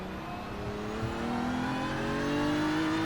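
A car engine in a racing sim climbs steadily in pitch as it revs hard on cold tires, a continuous rising drone that stays loud and close for the whole stretch.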